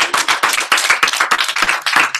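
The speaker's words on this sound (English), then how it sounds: "give yourselves a round of applause" A small group claps, quick uneven handclaps close by for about two seconds, with no voices.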